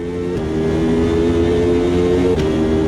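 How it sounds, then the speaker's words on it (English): The AJR Jude, a Brazilian prototype racing car with a 4.2-liter V10, drones steadily at low revs in a racing sim, with a loud, continuous buzzing engine tone and a brief gear-change dip midway. "Now we are in the AJR Jude, which is a Brazilian racing car."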